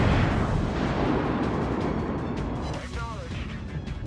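Warship guns firing in World of Warships, a heavy rumbling boom with a long roaring tail that slowly fades, loud and dense, with a faint high tone toward the end.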